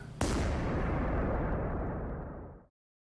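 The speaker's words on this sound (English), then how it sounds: "And we'll just fire from here." A single tank gun blast from Armoured Commander II goes off with a sharp onset, then a long rumbling roar that fades out over about two seconds before cutting to silence.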